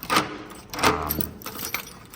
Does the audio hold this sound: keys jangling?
yes